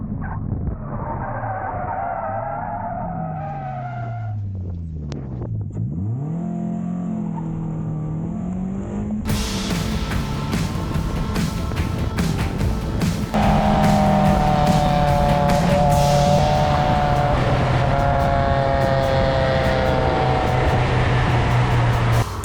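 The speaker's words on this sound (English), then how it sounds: "I started really chasing down my new personal best with the Yaris, hunting that 210 and pushing every single lap" A Toyota Yaris race car laps a track with its engine revving and shifting, and its tires squeal through the corners. The sound stays loud and continuous throughout, grows harsher and more intense in the second half, and no one speaks.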